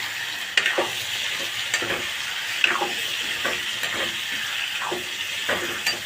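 Chicken meat is stirred and fried in a pan, with a continuous sizzle broken by a roughly regular scrape of the spoon about every second, close and fairly loud, with no voices.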